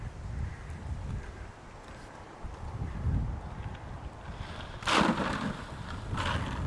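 Gusty wind buffets the microphone in rumbling waves, with a sharper blast partway through; no one speaks.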